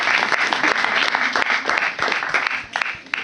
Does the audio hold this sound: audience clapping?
yes